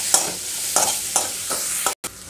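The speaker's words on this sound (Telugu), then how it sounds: "సో ఇందులో ఇలా కొంచెం ముందు గోంగూర వరకు వేయించుకొని వెల్లుల్లిపాయలు కొంచెం ధనియాలు వేసుకుంటే సరిపోతుంది." Gongura leaves fry in a pan with a steady sizzle, while a spoon scrapes and stirs in four or five evenly spaced strokes, close and fairly loud.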